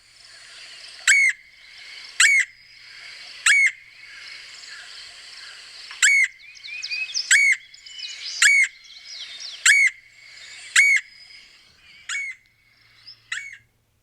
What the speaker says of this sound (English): here is the red-headed woodpecker.